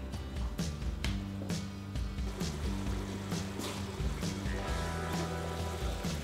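Water bubbles and churns steadily in a pot, a soft continuous gurgle with occasional small pops, heard up close and alone.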